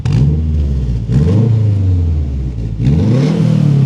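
A Subaru WRX with new headers and its exhaust valves off rumbles loudly and close, its throaty burble rising and falling through a few blips of the throttle with no talk.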